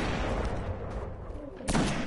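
Gunfire in the video game Destiny while shooting at a large enemy's legs, a dense rumbling barrage with one sharp, loud blast near the end.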